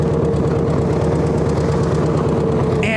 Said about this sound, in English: Oh, we're limping at idle speed here.